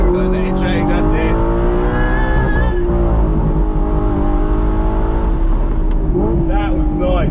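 An Audi R8 engine, heard from inside the car, accelerating hard with its pitch climbing, then briefly dipping at a gear change before rising again, loud and sustained, with people talking over it.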